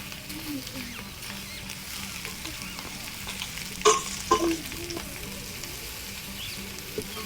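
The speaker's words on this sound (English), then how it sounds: "listen to that sizzle" Onions, garlic and ginger sizzling in a pan for a village bean stew, a constant crackling fry with a few sharp clinks and scrapes of stirring in the middle, heard up close.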